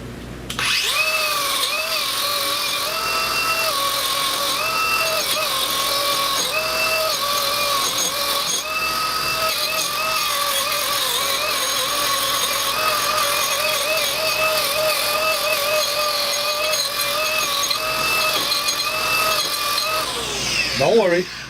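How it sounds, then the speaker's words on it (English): A wire wheel on a power drill grinds loudly and continuously against the front wheel hub of a 2012 Dodge Grand Caravan during a rotor and pad replacement, with a steady high-pitched whine throughout. "Clean up, as I usually do. Get a wire wheel."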